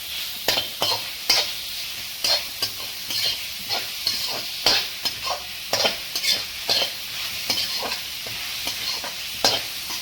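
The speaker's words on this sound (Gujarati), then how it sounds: "જો આમાં અવાજ આવે છે તો એ પાણીનો ભાગ હોય ને એ બળે છે" Grated bottle gourd roasting in ghee for laddoos as its water sizzles off, a bright continuous hiss with frequent rhythmic stirring scrapes, up close and fairly loud, no voices.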